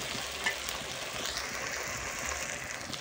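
Garlic frying in a pan for a fish curry, giving a steady, close sizzle with soft crackles and no talking.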